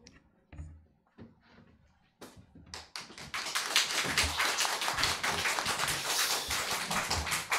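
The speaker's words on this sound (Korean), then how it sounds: "여러분 나오실 때 크게 박수하시면서 아멘으로 여러분 화답하시기 바랍니다" At a Christmas church service, a congregation starts with a few scattered claps and taps, then breaks into full, sustained applause that stays loud and dense to the end.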